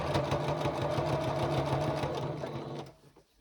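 A sewing machine stitches binding onto a gingerbread star quilted table topper, running in a fast, even mechanical chatter close up before slowing and stopping near the end.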